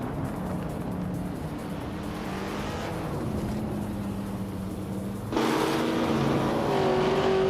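Race cars in a video game roar around Seattle Circuit Reverse, with a 1966 McLaren leading the pack. The engine drone holds steady, then jumps louder near the end as cars surge past.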